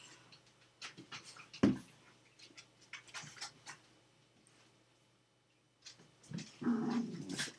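Several dogs growl and pant indoors, a run of short, close snarls and huffs broken by quiet gaps, with a louder, sustained growl near the end and no talking.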